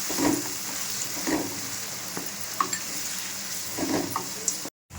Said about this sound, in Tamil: பெரிய வெங்காயம் 1. ஒரு 2-3 நிமிஷம் நல்லா ஃப்ரை பண்ணிக்கலாம்.